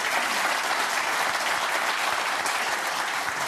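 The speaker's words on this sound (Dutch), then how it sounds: "Dames en heren, ook even applaus voor Marcel" Studio audience at a Dutch television talk show applauds steadily and loudly, a dense wash of clapping holding evenly throughout without voices.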